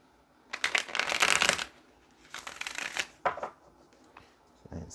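Tarot cards being shuffled in several bursts of riffling and sliding, close and fairly quiet, with short pauses between, and no talking.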